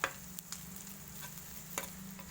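Onions and garlic sautéing in a pan for fried rice, a steady soft sizzle with faint stirring clicks and a couple of brief scrapes, low and close throughout.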